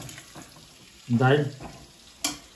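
Pointed gourd (potol) frying in a pan in a home kitchen, a brief sizzling burst swelling up mid-clip and settling, with a short clatter near the end and faint voices in the background.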